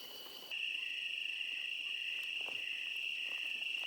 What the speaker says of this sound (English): otherwise it's just crickets and cicadas and frogs